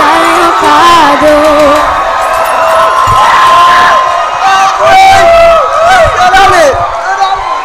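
Audience after a Christmas song performance cheering, whooping and shouting, loud and close, with voices calling out over the noisy crowd throughout.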